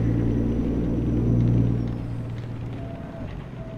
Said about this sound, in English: you can hear the truck run in the rain.